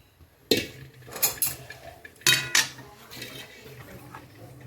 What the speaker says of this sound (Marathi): याला सारखा चमचा आपल्याला असं फिरवतच राहायचं आहे